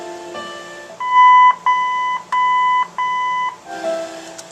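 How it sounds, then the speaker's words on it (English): Four loud, steady electronic beeps from the original AM/FM Wonder Bar radio in a 1972 Cadillac Eldorado, each tone lasting about half a second with short even gaps, heard close and clear over a faint background hum. "If you go to the center notch on it and go counterclockwise twice, it'll beep."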